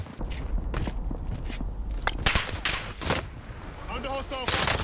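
Close, loud bursts of gunfire ring out in a Call of Duty Warzone match, with rapid automatic volleys and single shots over several seconds, mixed with mechanical clatter and voices talking.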